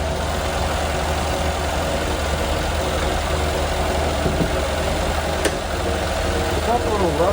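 Mercedes-Benz S63 AMG V8 idling with a steady low rumble that sounds slightly uneven, heard up close under a continuous hum, with a brief click and a faint higher squeal near the end.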